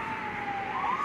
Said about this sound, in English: Oh, that's EMS, sorry. Well, you can certainly hear them.